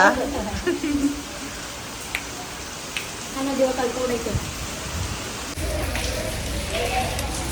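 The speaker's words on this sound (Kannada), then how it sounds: "ಇನ್ನೂ ಈ ಮಳೆ ನಿಂತಿಲ್ಲ" Steady rain hissing on surfaces throughout, with a voice talking faintly over it at moderate level.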